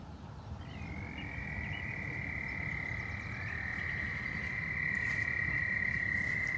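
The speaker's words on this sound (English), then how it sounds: "Those are the frogs." Frogs croaking in a steady, dense chorus outdoors on a spring evening, with a long sustained trill running through it and a constant low rumble of many calls underneath, moderately distant and without voices.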